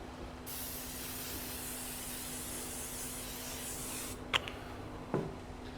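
Oil sprayed from a can onto a teres major (chuck tender) beef cut before searing: a steady, close hiss lasting several seconds, followed by two short clicks or taps.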